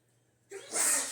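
A single sneeze, close by: a short breathy intake followed by a hissing burst that fades out.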